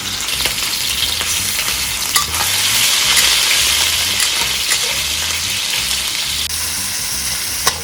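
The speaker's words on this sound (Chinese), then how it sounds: "用中小火把这个肉炒出它" Minced pork stir-fries in lard in a wok over medium-low heat for mapo tofu, giving a steady close sizzle with occasional spatula clinks and scrapes.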